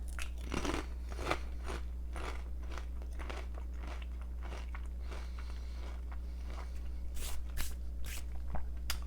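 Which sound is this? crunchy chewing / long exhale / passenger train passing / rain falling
crunchy chewing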